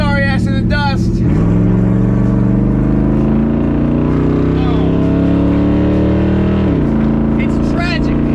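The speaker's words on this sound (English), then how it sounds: "Oh, and my car sounds so good." A $2,500 daily-driver build car pulls away with a loud, close engine note that climbs steadily, drops with a gear change, then climbs again, with a few faint squeaks and chirps over it.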